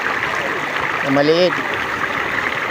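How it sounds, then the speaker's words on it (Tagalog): Flowing water of the Maples River in Aguilar, Pangasinan, a steady, continuous rush close by, running under a person talking throughout. "Kasi tuloy-tuloy yung tubig, yung agos ng tubig."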